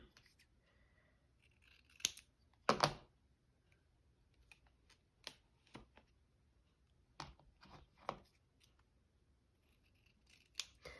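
Scissors snipping paper for a handmade coffee journal, heard as a quiet, close, irregular run of short crisp cuts with gaps between them and no talk.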